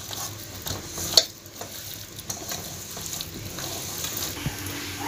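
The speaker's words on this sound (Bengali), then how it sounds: "কর্নফ্লাওয়ার দিয়ে এটা ভালোভাবে মেখে নেব।" Jackfruit pieces being mixed with cornflour in a bowl, soft rustling and stirring with a faint clink, close but quiet and low against a slight background hiss.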